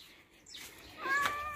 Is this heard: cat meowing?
yes